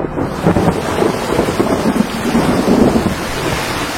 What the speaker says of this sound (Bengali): আবারও সজোরে একটা বাজ পড়ল